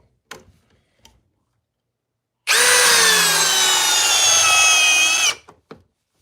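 A Ryobi power drill drives into wood with one loud, close whirring burst lasting about three seconds, its pitch bending as the load changes, with a few faint knocks before and after.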